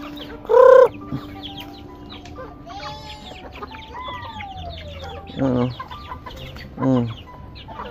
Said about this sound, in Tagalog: pakita ko muna sa inyo yung mga manok ko